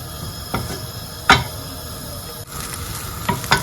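Dawadawa toasting in a pan hisses and sizzles softly, with a few sharp scrapes and clinks of a spoon stirring against the metal, close up and with no one speaking.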